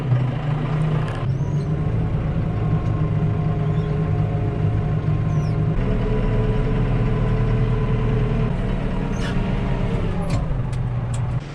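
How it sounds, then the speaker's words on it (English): A heavy tractor engine idles steadily and close by on a dairy farm, a low chugging drone that holds throughout with a slight shift in tone partway. "I'm gonna take this tractor up, park it out front there"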